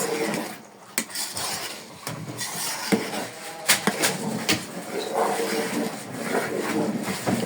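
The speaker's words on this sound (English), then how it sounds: "So we are still turning the soup. We are still turning it." Cocoyam soup (ede soup, an Eastern Nigerian dish) being stirred in a pot, with repeated clinks and scrapes of a utensil against the pot edge, close and moderately loud over a steady low kitchen background.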